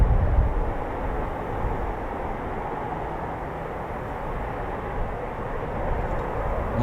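Eurofighter Typhoon jets passing at RAF Coningsby as a flight of four returns, a steady broad engine roar at moderate distance that holds evenly throughout with no talk.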